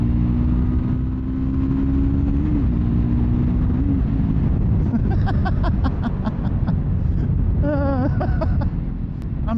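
A 2024 Triumph Scrambler 400X motorcycle runs with a steady droning engine note under heavy wind rush, as the revs rise and dip briefly when the front wheel lifts, loud and close, with brief chirping sounds late in the clip.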